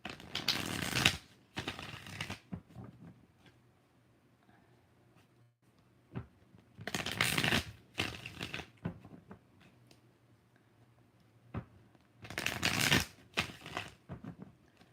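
A tarot deck shuffled by hand in repeated bursts, several quick riffles clustered together, then a pause with light taps before the next round, close and moderately loud with no talking.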